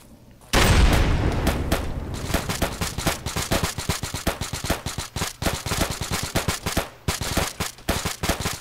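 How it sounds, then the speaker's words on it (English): A grenade blast and sustained gunfire in the military shooter Arma 3 during a squad firefight, with a loud boom followed by rapid automatic bursts and scattered shots, sharp and continuous, with little talk. "Frag out. Take cover."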